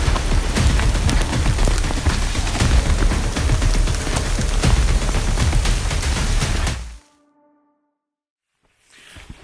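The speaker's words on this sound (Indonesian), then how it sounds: "kita baru jalan sebentar dari pos 2, udah langsung turun hujan nih kayaknya Kak" Heavy rain pours on a mountain hiking trail on Mount Merbabu via Wekas, a dense, loud steady roar of drops that cuts off abruptly, leaving near silence before faint sound returns at the end.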